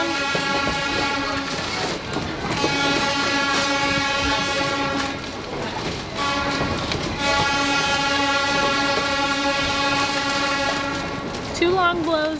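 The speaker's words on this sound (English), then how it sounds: "when the train crosses the street, it uses Morse code for the letter Q" A train horn sounds loud and close as the train crosses a street, signaling Morse code Q: two long blasts, one short, one long, over the rumble of passing rail cars.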